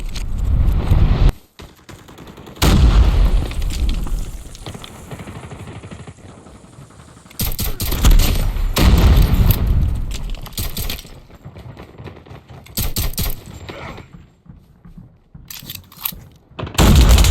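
Automatic rifle fire in a shooter video game crackles in loud, rapid bursts, broken by short gaps and quieter stretches, with a final burst at the end.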